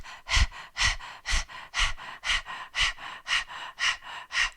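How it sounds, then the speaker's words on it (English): Rapid Kundalini yoga breath of fire done through an open mouth, about ten quick, even panting breaths in a steady rhythm, close and clear with equal inhales and exhales and no talking. "it's kind of like a dog panting, and I'll demonstrate here"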